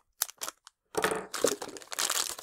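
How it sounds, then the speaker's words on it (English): Diagonal cutters snip and crunch through the jacket of a communication cable, a few short clicks followed by a longer stretch of close, crackling crushing and crinkling with no talking. "We will get a pair of dykes here and cut her open."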